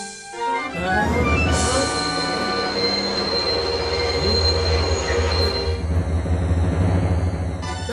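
A train squeals loudly on the rails as it moves through a station, shrill metallic tones layered over a low rumble throughout.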